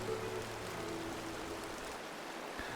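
A river in the Cairngorms near a footbridge rushes steadily, a broad continuous wash of flowing water heard at moderate distance with no voices.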